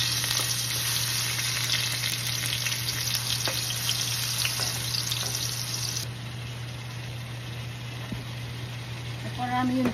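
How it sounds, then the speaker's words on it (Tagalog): Garlic sizzles in hot oil for chicken chop suey, a steady close frying hiss with faint kitchen clatter near the end. "Gisa tayo muna. Lagay tayo ng oil. Lagay tayo ng garlic."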